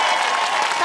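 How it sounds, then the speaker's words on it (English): Audience applause for the Science Museum at the close of a live science talk show, a dense continuous wash of clapping at steady loudness, short and close. "A huge round of applause and thank you to the Science Museum"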